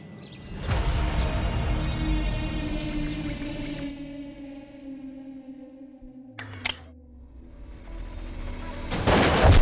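A sharp gunshot-like blast rings out and fades into a lingering rumble, with another crack midway and a loud burst at the end.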